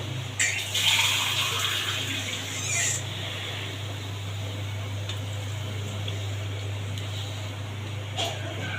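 Water is poured into a pot of vegetables being cooked village-style, giving a brief splashing pour near the start. A low steady hum follows, with faint clicks and no speech.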